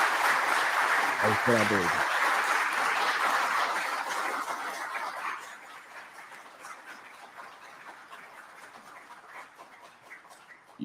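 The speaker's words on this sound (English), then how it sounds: "Y'all quit clapping" An audience at a discussion of a congressional UFO hearing claps steadily for several seconds, then the applause fades to scattered claps while someone speaks briefly over it.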